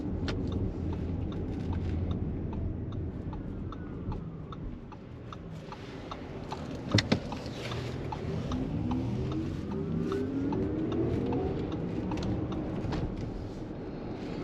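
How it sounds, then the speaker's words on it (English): A soft, low synthetic hum from a 2023 Audi e-tron Sportback's artificial low-speed electric-car sound, with faint rising and falling tonal sweeps over steady road rumble, continuous throughout, with one brief click near the middle. "I almost feel like I'm in a sci-fi movie with those engine sounds"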